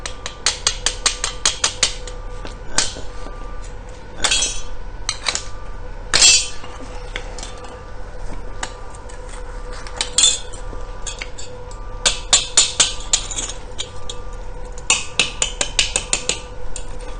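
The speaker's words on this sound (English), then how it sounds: "then you just tap it with a hammer" Rapid bursts of sharp metallic taps from a hammer knocking slag off a weld, clustered in quick runs with short pauses between, close and loud.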